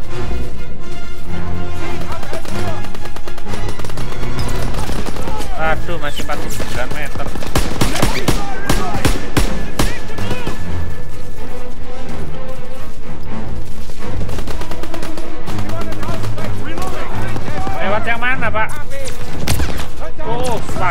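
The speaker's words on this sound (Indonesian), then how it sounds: "MG fire interrupted!" Loud, dense machine-gun bursts and rattling volleys fill a Call of Duty battle on the Hill 493 mission, continuous and close throughout, with shouted voices mixed in among the gunfire.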